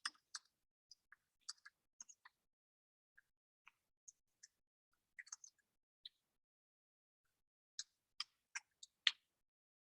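Someone types on a computer keyboard, making faint, close, scattered key clicks in irregular bursts, a few quick taps clustered together, with silence between them.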